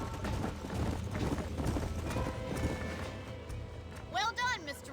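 Horse hooves clip-clop steadily in Red Dead Redemption, with a short horse whinny near the end and voices talking over the hoofbeats.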